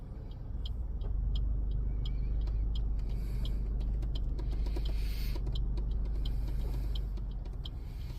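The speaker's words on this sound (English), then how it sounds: "all the cars, trucks, vans, you name it, they're on the road" Road traffic of cars, trucks and vans in Auckland, a low steady rumble heard from close by, dotted with light irregular clicks and ticks.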